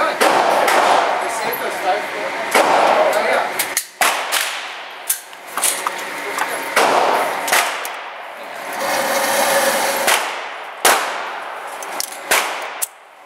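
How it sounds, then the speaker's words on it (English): A small Remington firearm fires a series of sharp, loud reports at irregular intervals, each with a ringing metallic tail, while voices murmur between the shots. "basically this is what happened when we shot the Remington"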